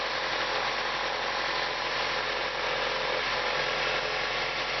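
Acura RSX engine with a K&N cold air intake, idling steadily: a constant, broadband whoosh of intake air over a low engine drone, close and even for the whole stretch with no talking.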